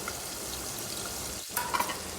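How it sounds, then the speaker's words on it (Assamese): Small puthi and singhara fish fry in hot oil in a covered pan, giving a steady close sizzle that is broken by a brief clatter and a few louder pops near the end. "তেল গৰম হৈছে। পুঠি আৰু শিঙৰা মাছ অলপ অলপকৈ দি এনেকৈ ঢাকি ৰাখিছোঁ।"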